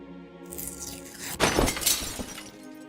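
In the game Deponia Doomsday, a stained glass window shatters with a sharp crash and a spray of tinkling shards that rings on for about a second over a low musical bed.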